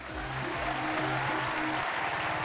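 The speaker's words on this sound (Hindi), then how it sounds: "जोरदार तालियों से स्वागत कीजिए हमारे जजेस" Studio audience applause welcoming the judges on a Hindi TV talent show, a steady wash of clapping with music sounding underneath throughout.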